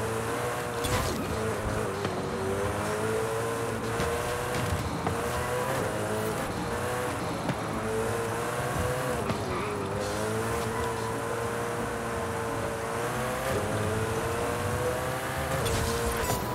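A car races in the video game Forza Horizon 5, its engine droning steadily at high revs with pitch rising and falling through gear changes across the whole stretch.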